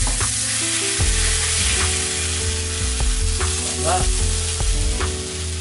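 Monkfish fillet sizzling in a hot pan as it is lifted off: a loud, steady frying hiss with low hum underneath and occasional scrapes and ticks from the utensil, close and continuous.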